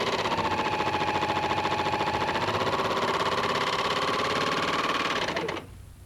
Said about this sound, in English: Now sew a test sample.